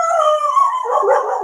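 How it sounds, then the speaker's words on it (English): A single dog howls close by in one long, sustained, wavering cry that rises into a yip-like bark near the end, heard alone. "That's a great dog bark here for the moon"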